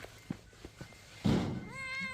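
A cat in a rural mountain village in Namwon meows once at the end, after a few soft knocks and a brief louder thump, the rising tonal cry fairly clear and close.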